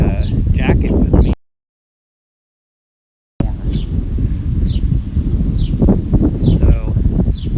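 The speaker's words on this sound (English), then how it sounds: "It is very windy today and a little chilly this morning" A cold, windy morning outdoors brings steady gusts of wind buffeting the microphone with a low rumble, while birds chirp faintly in the background; the sound cuts out completely for about two seconds midway.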